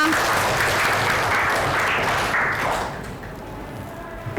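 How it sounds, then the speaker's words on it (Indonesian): A classroom of students claps together in a dense burst of applause that lasts a few seconds and then fades away. "Tepuk tangan untuk kita semua."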